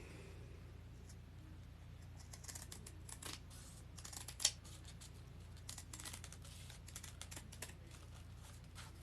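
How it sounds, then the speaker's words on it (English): Scissors snip through needlepoint canvas in a quiet room, a string of soft, close crisp cuts at an uneven pace with one sharper snip near the middle. "cut the canvas"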